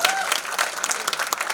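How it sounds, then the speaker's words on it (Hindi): Brief burst of audience clapping at a stage event following a dance performance, dense and fairly close, with a faint voice briefly audible at the start. "एक बार जोरदार तालियां"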